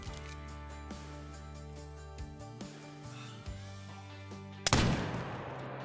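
A single sharp muzzleloader shot in Call of the Wild while hunting mouflon at Cuatro Colinas, loud and sudden near the end after a steady humming ambient bed, followed by a decaying rumble.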